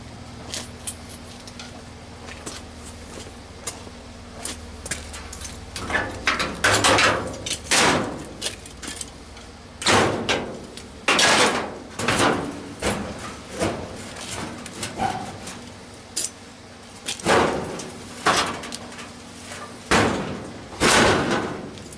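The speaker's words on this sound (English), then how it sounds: "we just welded the hinges, and we're going to take them off and see if the door opens" A newly welded door on a 1931 Ford rat rod is swung open and shut repeatedly, giving a series of loud metallic clunks and slams at irregular intervals over a quiet background.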